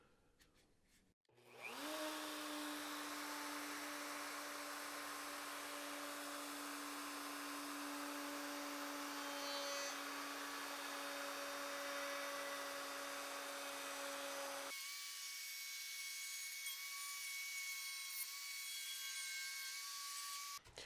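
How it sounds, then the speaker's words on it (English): An electric router runs at a steady high whine while cutting a rabbet in chippy plywood, holding one loud tone for about thirteen seconds before the pitch shifts and it keeps running alone. "plugged the router in, and I'm all ready to make that cut"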